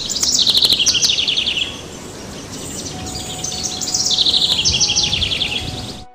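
Shrill, high-pitched kingfisher calls come in two rapid trilling bursts, one at the start and one later, over a constant hiss of outdoor ambience with faint chirping in the background.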